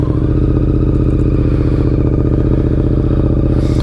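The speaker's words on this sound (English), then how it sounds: "Let's get this bike warmed up." A 2024 Yamaha MT-07 sits warming up at idle in a garage, its twin-cylinder engine giving a loud, close, rapid pulsing thrum with light mechanical clatter, steady throughout and without voices.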